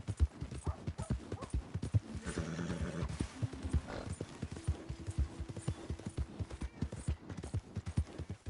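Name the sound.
horse hooves clip-clopping in a video game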